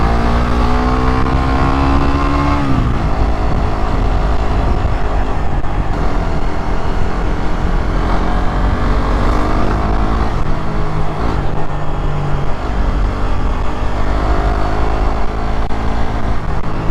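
Car engine running steadily through a road test on a climb, loud and continuous for the whole stretch, with its pitch rising and falling as gears shift.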